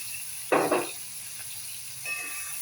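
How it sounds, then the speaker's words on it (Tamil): Onion, garlic, ginger and tomato hit a hot pan for a bitter gourd dish, giving a short loud sizzling burst, then a fainter hiss and a smaller burst near the end. "நேராக இது டைரெக்டாக வெங்காயம், பூண்டு, இஞ்சி, தக்காளி இதை போட்டு நல்லா வதக்கிடணும்"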